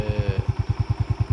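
A motorcycle engine runs while riding, thudding in a fast, even rhythm of low exhaust pulses, close and loud, with a faint whine fading out early on.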